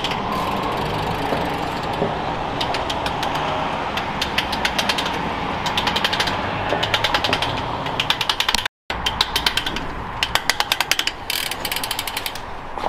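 Worn chain drive sprocket on a Darmatoor 26 motorcycle, with a badly worn driver, rattling and clicking in a steady running mechanical grind, with dense repeated ticks over a continuous whir, close and loud, with one brief dropout.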